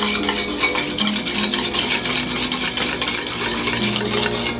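A small whisk beats olive oil into a dip, a fast, continuous metallic clatter and tapping against the bowl, close and fairly loud, with no voices.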